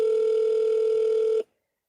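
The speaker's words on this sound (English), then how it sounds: "I feel like it's probably going to just keep on ringing until we hang up." A phone call in the video game Duskwood rings as one steady electronic tone that holds clearly for about a second and a half, then cuts off abruptly into silence.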